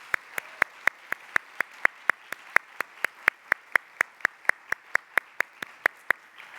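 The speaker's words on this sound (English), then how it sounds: "Please join me in applauding our new leaders." Applause for newly elected leaders at an annual business meeting of a nursing association: a steady, evenly spaced clapping beat, one sharp clap after another against a soft background hum of the hall, with no talk.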